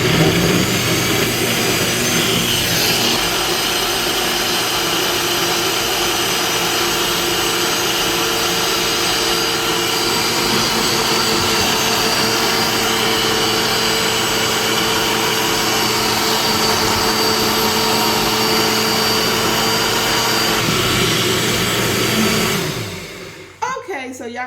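A blender whirs steadily as it spins a spinach smoothie, a loud continuous motor drone that lasts about twenty seconds, then winds down and stops near the end.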